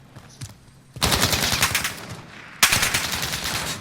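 An MP5 submachine gun fires in Call of Duty Modern Warfare: two loud, sustained bursts of rapid automatic fire, the first running over a second and a half, the second beginning right after a brief pause.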